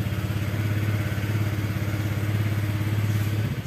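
A Honda Vario 125 FI scooter with a dead-electrical fault has its electric starter cranking the engine, a steady close rhythmic churning whir that runs throughout and cuts off at the end without catching.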